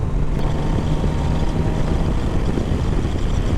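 Steady, loud wind roar buffeting the rider on a moving Kawasaki Z900RS motorcycle, a dense continuous rush with no breaks.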